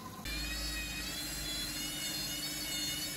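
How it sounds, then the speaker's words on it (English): A Baumatic integrated washer dryer drum turning during a load balance after the first rinse, a steady whirring hum with a rising whine that starts abruptly and holds evenly, close and alone. "it's just finished its first rinse and now it's doing a load balance"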